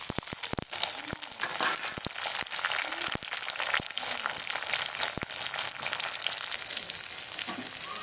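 Tomato and green chili hitting hot oil with frying onion for a Kathiawadi vagharelo rotlo, a steady loud sizzle with crackling pops and a few stirring scrapes throughout.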